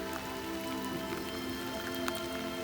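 Rain falls steadily on a camper parked on National Forest land, a dense, even patter of drops on the roof with occasional louder taps, heard from inside and without voices.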